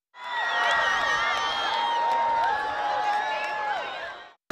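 A crowd watching a total solar eclipse cheers, whoops and shouts together, a dense burst of excited voices sustained for a few seconds at moderate distance.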